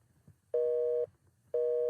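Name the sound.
telephone busy signal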